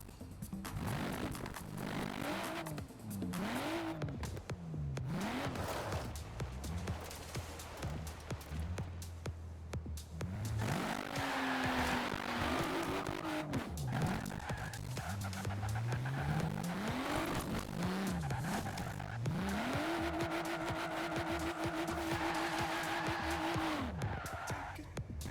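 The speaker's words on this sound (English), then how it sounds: "Before I give it a score, I'll do a burnout and the way it sounds." A BMW M4 does a burnout in Forza Horizon 4, the engine revving up and down repeatedly with loud tire squeal and skidding, ending in a long held high rev.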